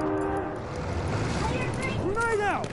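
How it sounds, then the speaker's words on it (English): A train horn blares over online voice chat during a PS4 game broadcast, starting as a steady tone and then bending in pitch, under game noise and people talking. "Yeah, I heard a train to you."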